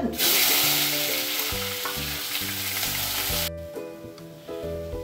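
Onion paste hits hot oil tempered with cardamom and cinnamon for a bottle gourd kofta curry, setting off a loud burst of sizzling that fades into a quieter crackle under steady background music.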